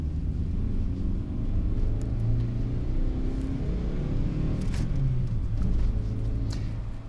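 A 2012 Renault Clio's naturally aspirated 1.2 litre, 75 horsepower petrol engine revs from inside the car, a steady low rumble that rises and falls in pitch, heard alone without talk.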